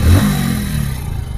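A motorbike engine, its rubber AC pump part just repaired, revs up close and loud at the start, then settles back into a steady idle.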